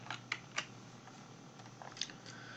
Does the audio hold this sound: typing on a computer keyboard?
yes